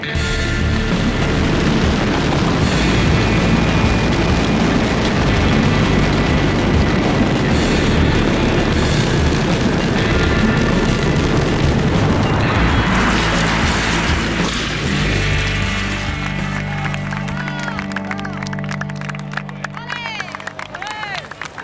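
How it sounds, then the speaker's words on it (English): A mascletà firecracker display sets off a dense, continuous barrage of loud explosions for about fifteen seconds, then it thins out into scattered bangs as crowd noise rises at the end. "Spectacular mascleta."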